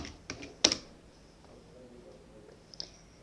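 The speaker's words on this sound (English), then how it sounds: "Just type in GitHub/login." Typing on a computer keyboard: a few quick, quiet key clicks with one sharper tap near the start, then sparse light taps in a quiet room.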